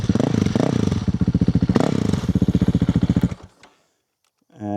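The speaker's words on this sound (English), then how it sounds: "I'll give it a little rev since it's not warm." A cold 2025 Honda CRF450RL dirt bike engine revs in rapid pulsing bursts, loud and close, then cuts to near silence before picking up again briefly at the end.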